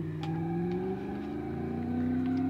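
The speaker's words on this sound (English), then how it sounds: "Look, this is a derby car. It's a proper derby car" Engine drone of a battered derby car in BeamNG.drive, a steady buzzing hum with slowly rising and falling pitch as it revs, fairly quiet and alone without talk.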